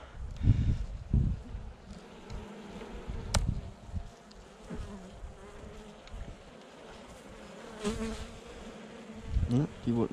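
Honeybees buzzing close up in an opened beehive during a November winter inspection, a dense steady hum with loud bumps and rustles of handling throughout.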